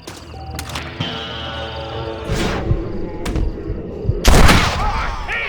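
Gunfire in the Western video game Red Dead Redemption comes as several sharp, loud shots spread across the span, the last one heaviest, over a low game soundscape.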